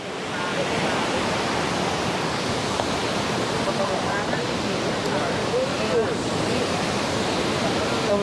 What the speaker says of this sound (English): So this is Maiklang Waterfall, guys, right there.